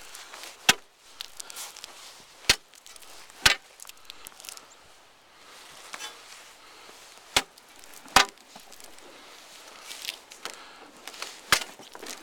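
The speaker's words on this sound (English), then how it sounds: "First time through, spud bar went completely through." Steel spud bar chopping down into lake ice on Indian Lake, Ohio, with about eight sharp, separate strikes at uneven intervals over quiet outdoor background.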